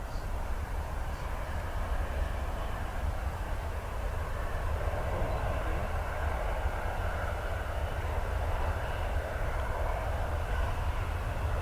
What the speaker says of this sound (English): this Helen saying is Ryanair's only 737, 700